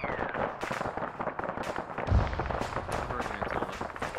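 Dense bursts of automatic gunfire from the military video game Arma, rapid overlapping shots and distant booms filling the scene, with a voice speaking faintly beneath the gunfire.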